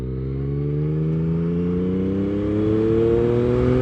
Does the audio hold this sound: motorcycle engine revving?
yes